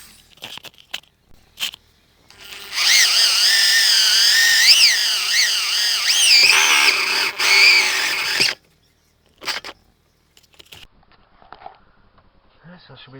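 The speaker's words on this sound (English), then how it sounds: "Get that drilled and get the holes widened." A power drill bores holes into the body of a VW T4 van for a Propex HS2000 gas heater exhaust, a loud close whining burst lasting several seconds with pitch wavering under load, then a short follow-up burst amid handling knocks.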